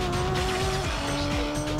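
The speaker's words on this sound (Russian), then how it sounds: "Послушайте рев двигателя." Race car engine in Gran Turismo 2 during the Rome 2 hours endurance race, loud whining high revs rising and shifting with quick gear changes and faint tire squeal, no speech.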